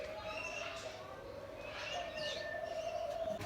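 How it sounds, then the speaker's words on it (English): Birds chirp in a walk-through bird aviary at Parrot Mountain in Pigeon Forge, Tennessee, giving short tweets and calls over a steady background hum. "Birds flying everywhere."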